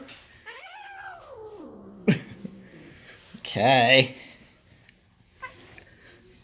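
A cat in underpants meows several times, a drawn-out rising and falling meow followed later by a louder strained yowl, while a person speaks briefly nearby.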